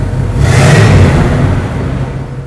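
A Pontiac Trans Am Special Edition with dual exhaust revs once, close and loud, the engine surging sharply and then settling back toward idle.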